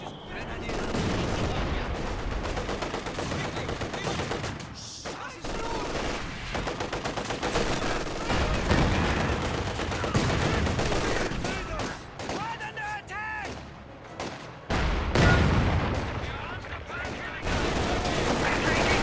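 Dense video game battle gunfire: rapid machine-gun bursts and single shots crackle throughout, with explosions mixed in and voices talking over the fighting.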